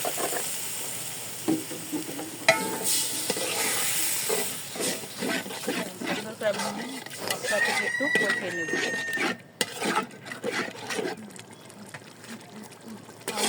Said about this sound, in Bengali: মশলা একটু কষিয়ে নেব